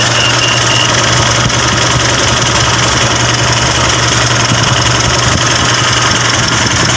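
The engine of a 2023 Mitsubishi Strada pickup idles steadily and loudly up close, an even, continuous mechanical hum with a constant low tone and light rattle.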